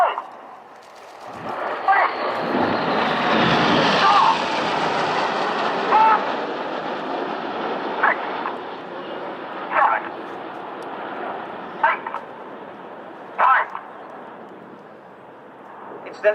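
Red Arrows display team jets at the RIAT 2014 air show, a broad roaring engine rush swelling as they pass and slowly fading into a long distant rumble, with crowd voices and brief exclamations over it.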